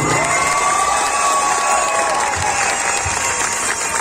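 Crowd cheering and applauding with whoops at a children's and teen beauty pageant coronation night, a steady loud wall of sound throughout with faint voices mixed in.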